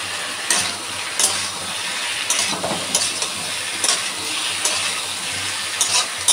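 Fish curry with ridge gourd and potato frying in a pan, a steady sizzle with repeated soft scrapes of stirring at irregular intervals, close and continuous with no talk.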